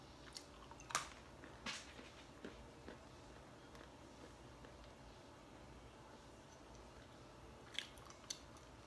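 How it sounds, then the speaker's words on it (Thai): Peanuts are chewed close to the mic, with a few sharp crunchy bites at the start and end and quieter steady chewing between, faint against a soft hiss. "ถั่วยิ่งเคี้ยวยิ่งมัน"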